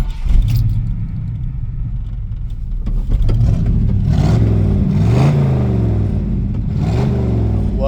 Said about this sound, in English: Love the way this engine sounds.